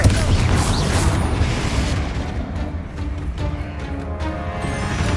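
Blasting bursts from the Confringo fire spell in Hogwarts Legacy, a loud booming explosion up front that decays into rumbling, mechanical game noise and lingering crackle.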